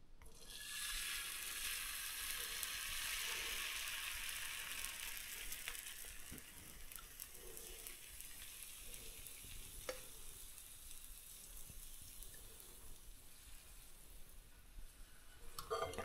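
Pancake batter frying in a preheated pan for Shrove Tuesday, a steady soft sizzle that runs throughout with faint clinks of utensils, close and fairly quiet with no voices.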